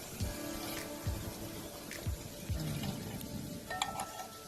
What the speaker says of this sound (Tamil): தண்ணி ஊற்றுங்க ஊற்றுங்க